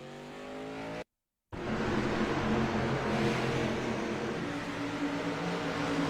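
A street stock race car in an iRacing simulation spins out, its engine droning loud and steady after a brief cut, with a faint hint of tire squeal.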